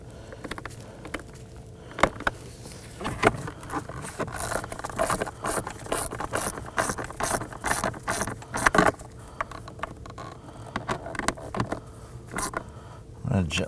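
A hand ratchet driving screws into a Volvo S60 blower motor module, heard as close, rapid clicking bursts with scraping and pauses between strokes, with no talking.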